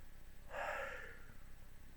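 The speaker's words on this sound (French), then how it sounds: "j'ai jamais compris pourquoi on est souvent plusieurs à bâiller en même temps" A single quiet yawn, a breathy, drawn-out exhale lasting under a second, alone in faint room tone.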